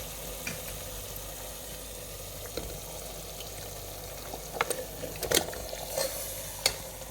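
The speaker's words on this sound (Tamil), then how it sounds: "இப்போ நம்ம வந்து கலந்து வச்சுருக்க மட்டனை இதோடு சேர்த்துக்கலாம்." Marinated mutton sizzles in frying masala and oil as it is stirred, a soft steady crackle punctuated by sharp scraping clinks of the spoon against the pan toward the end.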